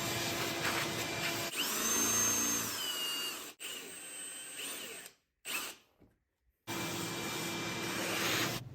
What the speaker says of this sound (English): A shop vac makes cleanup quick and easy.